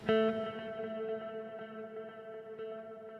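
A single Gibson Firebird guitar note rings out and keeps repeating through a long, steady ping-pong delay echo that bounces on and barely fades.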